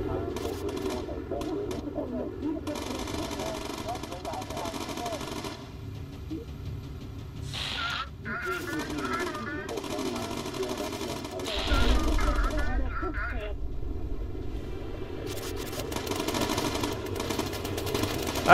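Bomber gun turret firing in Bomber Crew: steady rapid machine-gun bursts rattle continuously under game engine drone and other game sounds, with a heavier burst near the end.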